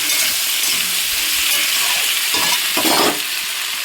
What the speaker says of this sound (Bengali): বন্ধুরা পেঁপে আলু দিয়ে দিয়েছি, যে পেঁপে আলুটা কষানো হবে।